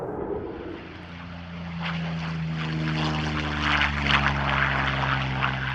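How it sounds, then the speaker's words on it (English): An ex-Vietnam People's Air Force jet, now flying in Australia, passes at the RAAF Edinburgh airshow, its loud engine roar holding steady with a low droning hum and swelling slightly as it goes by. "This particular aircraft is an ex-Vietnam People's Air Force jet, imported to Australia in 2001 and returned to flight last year."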